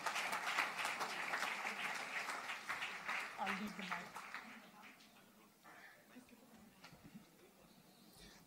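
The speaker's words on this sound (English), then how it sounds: "A big applause for Priya Paul." Audience applause at the Devi Awards 2014 ceremony for an honoree, a dense crowd clapping loudly for several seconds before thinning into scattered claps and fading, with a voice speaking over the tail.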